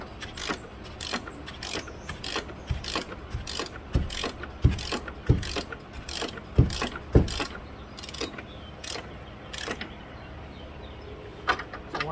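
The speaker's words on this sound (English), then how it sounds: "I'm using a socket this time." A socket ratchet clicks in quick bursts of pawl ticks, loosening an 18mm bolt on a 2012 Nissan Altima during valve cover work, close and crisp with a few pauses between strokes.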